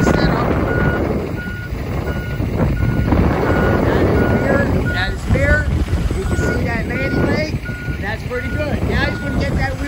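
A truck reverses into a 90-degree alley dock, its backup alarm beeping steadily in an even repeating rhythm over engine rumble and wind, with people talking throughout.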